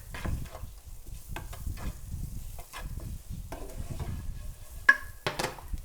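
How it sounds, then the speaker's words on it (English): Roasted mushrooms and cauliflower tossed in a pan with butter and curry powder: a steady run of stirring and scraping over a soft sizzle, with a brighter clink near the end and no talking. "add half a tablespoon of curry powder, and then toss to incorporate"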